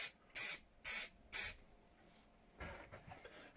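Spray gun laying a light top coat onto Suzuki Bandit 1200 custom motorcycle parts: three short close hissing bursts in quick succession, then a softer, longer spray after a pause.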